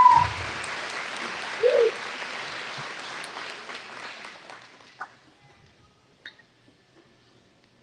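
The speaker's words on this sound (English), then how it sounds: "Another round of applause for Miss Jackson County, Katie Settlebauer and her court" An audience at the Jackson County Fair coronation applauds Miss Jackson County and her court, a steady wash of clapping with a couple of louder bursts that fades out over several seconds into near silence.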